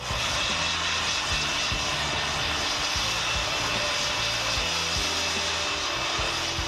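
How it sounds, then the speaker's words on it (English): A small handheld mini blower runs steadily and loud, with a continuous airy roar as it clears sawdust off a plywood sheet before priming. No one talks over it. "you can use a little mini blower, which is what I'm about to use to get the sawdust off of this sheet"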